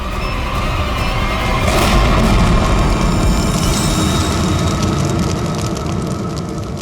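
A bomb blast roars as a heavy, loud rumble filling the whole stretch, with a sharper burst of crackle near the start of it before the low roar slowly eases off.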